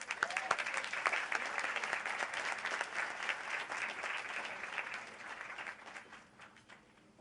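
An audience at an annual breakfast gathering applauds to welcome a speaker with dense, steady clapping from many hands. It holds strong, then gradually fades toward the end.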